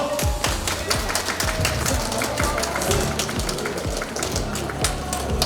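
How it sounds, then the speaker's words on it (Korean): Audience at a season ticket sales event for the Pohang Steelers football club clapping: a sustained round of dense, crisp applause from many hands, steady and fairly close throughout. "여러분들 박수 보내주십시오."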